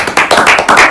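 A few people clap in a short, quick burst of close, sharp hand claps.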